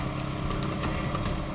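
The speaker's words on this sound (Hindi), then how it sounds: "ये कौन जा रहा बाइक पे?" A motorcycle engine runs steadily at night, a loud, constant drone that holds level throughout with no voices over it.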